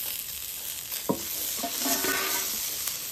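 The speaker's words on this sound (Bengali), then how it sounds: "সবজিগুলো একদম হালকা আঁচে হালকা ভেজে নেব" Diced potato, carrot, peas and capsicum fry gently over low heat in a pan while being stirred, producing a soft, steady sizzle with a few close scraping stirs and no voices.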